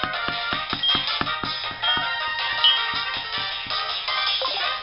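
A ringing phone melody from Pokémon HeartGold/SoulSilver chimes in a steady, repeating electronic pattern with a regular beat, loud and alone without talk.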